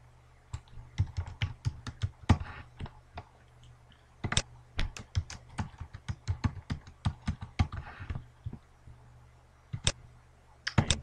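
Someone types login credentials on a computer keyboard, giving a steady run of crisp, close key clicks in irregular bursts with brief pauses, and no talking.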